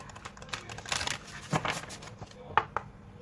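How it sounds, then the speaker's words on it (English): Large tarot cards being shuffled, a soft papery riffling and crinkling with a few sharper snaps, fairly close and quiet, no talking. "I'm going to shuffle them off camera so that I will not knock anything over."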